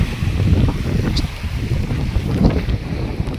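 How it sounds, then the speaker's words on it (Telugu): Strong wind roars steadily and close at a reservoir with a dam gate open and big waves, a continuous buffeting rumble with no pauses, water lapping faintly beneath it. "ఫుల్ గాలి ఉంది"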